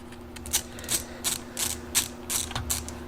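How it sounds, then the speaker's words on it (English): A hose clamp being tightened on the air intake of an F250 Super Duty 7.3 Powerstroke diesel truck, with a ratchet clicking in quick regular bursts, close and clear with no talk. "we'll go ahead and lay a clamp on there"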